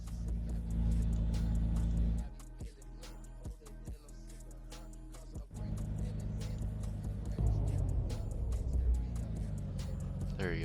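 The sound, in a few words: BMW S55 engine deceleration sound in video game mod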